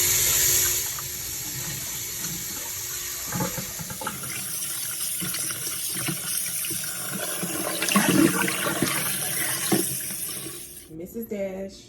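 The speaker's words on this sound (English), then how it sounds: "I'm going to wash the meat, and I'm washing it with lukewarm water" Raw steak meat rinsed under running lukewarm tap water at a kitchen sink, a steady close gushing stream with splashes and handling noises throughout.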